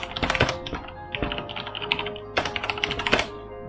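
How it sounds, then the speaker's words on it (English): Fast, clattery typing on a cheap plastic membrane keyboard, dense uneven keystrokes close up with a few heavier thunks, no voices. "when you do type, the noise is overwhelming"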